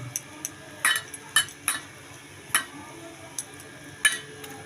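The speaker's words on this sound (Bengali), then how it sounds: "এবার আমি বেসনটাকে খুব ভালো করে ফেটিয়ে নেব অল্প অল্প জল দিয়ে" A utensil clicks and taps against a bowl while gram flour batter is whisked with small additions of water, giving sparse, light, irregular clinks at close range.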